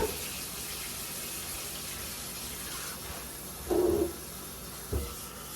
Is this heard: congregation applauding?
no